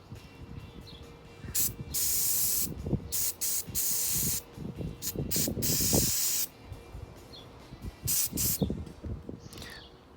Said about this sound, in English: spray this in here, give it a good healthy dose. I'm going to give 3 sprays